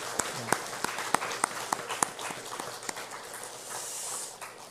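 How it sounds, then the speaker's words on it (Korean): A church congregation gives a round of applause during a Sunday service; a handful of distinct, fairly sparse claps ring out first, then thin into a softer spattering with room noise and a faint voice. "우리 칭찬하고 또 응원하고 격려하는 차원에 다시 한번 박수하겠습니다."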